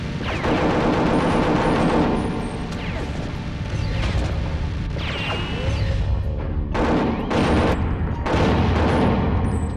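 Gunfire from the Perfect Dark shooter game: a dense run of loud, sharp shots and mechanical clanks with crashes, filling most of the stretch, with a few distinct bursts late on.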